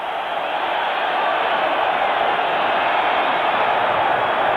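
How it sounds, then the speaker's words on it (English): A dense, steady roar from a packed football stadium crowd at a 1986-87 Napoli versus Empoli Serie A match, loud and continuous throughout with no gaps. "the roar of the crowd"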